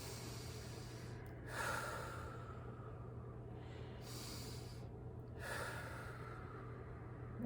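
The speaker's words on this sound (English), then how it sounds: "Take a nice deep breath. I like to take 3." Slow, deep breaths during a guided mindfulness practice: two long, soft inhale-exhale swells that rise and fade over a steady low hum, quiet and close, with no talking.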